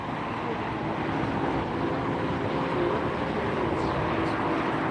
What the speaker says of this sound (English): 787 Dreamliner just came in from Shanghai